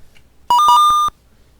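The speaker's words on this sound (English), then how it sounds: "I remember the super annoying sound effect for walking" A short burst of electronic beeps from the walking sound effect in the video game Archipelo, four or five quick tonal blips over about half a second, clear and alone.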